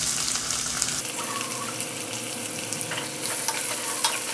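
Four medium onions, finely sliced, fry in hot oil for a keema dish, giving a steady, loud, close sizzle with bursts of crackle and an occasional scrape of stirring.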